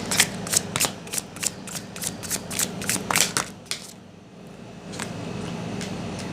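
An Alice in Wonderland tarot deck is riffle-shuffled nearby in a rapid run of crisp card flutters, then a pause and a few slower, softer shuffles.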